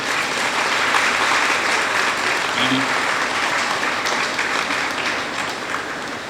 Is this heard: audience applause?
yes